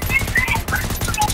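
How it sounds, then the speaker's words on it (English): Rapid video-game gunfire rattles in quick bursts under excited voices, dense and continuous over a short span. "Shoot it in the back."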